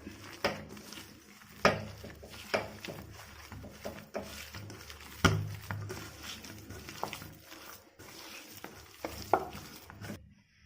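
Sugar and ground cardamom powder are mixed in a bowl, giving close, quiet scraping and stirring with scattered sharper taps of the utensil against the bowl. Nobody speaks.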